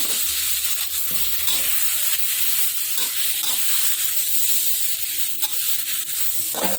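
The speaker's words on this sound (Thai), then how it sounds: "ผัดให้หมูสุกครับ จากนั้นนำกุ้งลงไปผัด" Shrimp and pork stir-fried in a pan: steady sizzling hiss under repeated scraping strokes of a spatula, close and continuous with a few sharper clacks, no voices.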